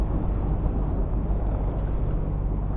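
Low-power inboard engine of a sailboat cruising toward Île d'Yeu, a steady deep rumble mixed with wind and water noise, continuous and close.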